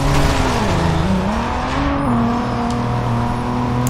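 A Nissan GT-R on nitrous in Driver San Francisco pulls hard, its engine drone rising and shifting pitch with loud, close, continuous acceleration and a faint tire hiss.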